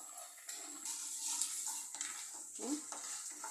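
Lentils and peanuts dry-roasting in a pan over low heat, stirred with soft scraping and faint crackling that rises and falls across a few seconds, close and quiet, with no talking.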